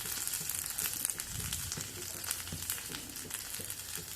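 Shallots, red chili and asafoetida sizzle steadily in a hot pan while being stirred, a continuous crackling fry with soft scraping.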